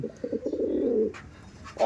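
An Andhra pigeon offered for sale coos nearby in a soft, low burst of about a second, followed by a brief pause and a faint trailing sound.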